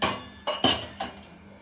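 Metal pots and utensils clank in a household kitchen as pans are shifted around, with a few sharp clattering hits followed by fading rattles, close and fairly loud.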